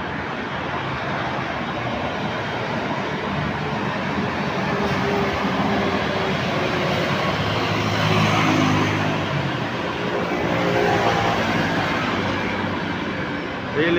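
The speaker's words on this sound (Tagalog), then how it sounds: "Palipad naman yung isang aeroplano." Philippine Airlines airplane taking off, a steady loud jet roar that swells slowly and holds throughout, heard from outdoors.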